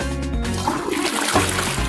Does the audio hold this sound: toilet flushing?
yes